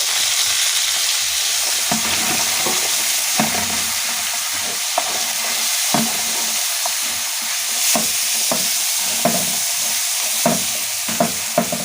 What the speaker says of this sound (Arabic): بعد ما شلنا اللحمه بتاعتنا هننزل بالبصل